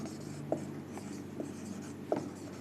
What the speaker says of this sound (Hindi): परिभाषा लिख देता हूं।